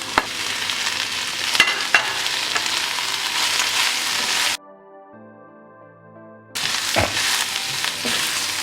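Vegetables sizzling with garlic, masala powder and curry powder in a hot pan for chicken curry, a loud steady fry with occasional stirring knocks, briefly interrupted by a quiet tonal gap before the sizzle resumes.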